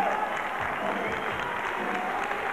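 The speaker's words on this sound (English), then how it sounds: "Come on, give a round of applause." A crowd applauds BMX riders at a 1987 freestyle competition, dense steady clapping filling the whole stretch at a constant loud level.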